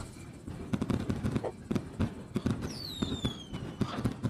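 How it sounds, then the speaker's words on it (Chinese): Fireworks burst in a quick, irregular volley of sharp pops and crackles, with a whistling rocket rising partway through, heard fairly close with no talk. "这个是何人放的烟花？"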